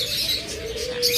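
A tame pet lovebird gives a quick run of bright, high chirping calls, close by and with no voices over them.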